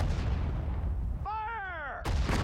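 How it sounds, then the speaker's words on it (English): Artillery fire in the World War II strategy game Sudden Strike 4, a dense booming barrage that drops out for a moment under a brief voice-like tone, then resumes loudly. "Artillery, fire!"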